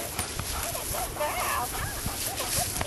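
A dog whimpers in short, wavering whines on a hike in Maryland, close by, over steady outdoor background noise with faint voices.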